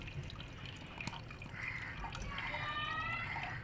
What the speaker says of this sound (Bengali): এখন আমি দুধটা দিয়ে দিচ্ছি।